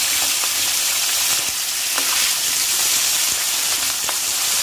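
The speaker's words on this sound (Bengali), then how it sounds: "মাছগুলো ভাজা হতে থাক" Fish frying in a pan of hot oil, a steady close sizzle with a few sharp pops and crackles scattered through, no voices over it.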